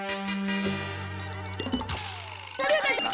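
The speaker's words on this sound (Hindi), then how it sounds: "लगता है किसी का मोबाइल बज रहा है" A mobile phone rings indoors in a household scene, a bright electronic ringtone with layered tonal notes that shifts pattern partway through, sounding fairly clear with a short burst of other noise at the end.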